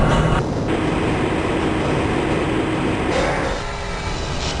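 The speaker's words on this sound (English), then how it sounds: "This train is inbound from the Area 8 topside dormitories to the Central Transit Hub in Area 9." A Half-Life tram rolls steadily through the Black Mesa transit system, a loud continuous rumble with rail clatter and a hiss that eases slightly toward the end, with no voices over it.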